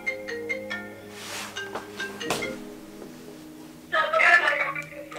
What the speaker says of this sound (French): Allô? Téléphone a sonné.